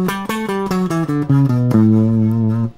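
A Mixolydian mode scale rises over two octaves as a rapid series of clean pitched tones, evenly paced and ending on a longer held note that fades, with no voices over it.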